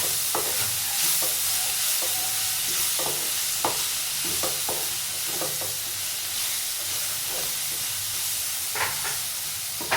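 Okra fry with coriander and mint being stirred in a hot pan, a steady sizzle with repeated spatula scrapes and clicks throughout, close and fairly loud.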